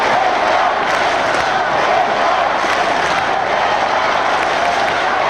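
A large stadium crowd at a 2000 Australian football match between Brisbane and Carlton roars for a goal, a loud, sustained wall of cheering and shouting that holds steady throughout.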